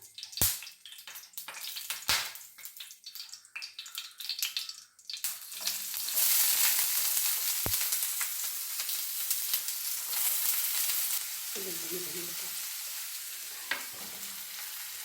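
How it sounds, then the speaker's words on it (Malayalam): Finely chopped onions hit hot oil in a pan for a soyaball curry, with a few sharp clinks first and then a loud, continuous sizzle that eases slightly toward the end. "ഇനി നമുക്ക് സവാള ചെറുതായി അരിഞ്ഞത് ചേർക്കാം."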